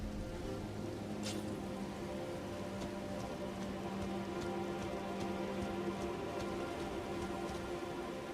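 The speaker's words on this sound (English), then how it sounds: "Oh, look at the rain and nighttime." Steady rain falls at night in the video game Elden Ring: a dense, even hiss of rain on surfaces with faint drips and low ambient tones, continuous and unbroken throughout.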